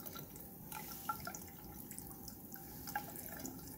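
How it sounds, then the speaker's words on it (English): Water runs steadily out of a distillation condenser's outflow tube in a chemistry lab, a continuous close splashing stream with a few sharper drips standing out. "And that's a pretty aggressive flow of water"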